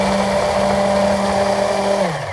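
A blender whirs steadily, grinding the seasoning ingredients for deodeok tteokgalbi (rice wine, soy sauce and more) with a lid on, a loud continuous motor hum that winds down and stops near the end.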